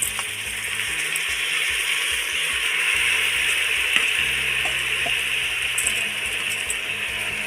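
Washed rice tipped into a hot pan with cashews and raisins for egg dum fried rice, giving a steady, even sizzle and hiss that runs throughout, close and fairly loud, with no talking.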